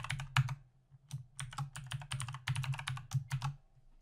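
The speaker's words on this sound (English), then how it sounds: "And so I'm going to type it in." Keys on a computer keyboard clack in quick, irregular bursts with short pauses, close and fairly quiet, as a username and password are typed in for a network storage drive.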